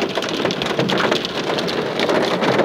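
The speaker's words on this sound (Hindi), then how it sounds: "आप देख रहे हो बर्फ के टुकड़े कितने मोटे मोटे पड़े हुए हैं यहाँ पे, लगातार बरसात चल रही है।" Heavy rain mixed with thick hailstones pounds down steadily, a dense, loud, continuous roar of impacts with no pauses and no voices.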